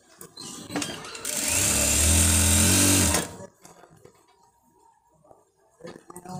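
Sewing machine running in one steady burst of about two seconds, stitching the cuff of a shirt sleeve. Light handling noises come before and after, with no talk.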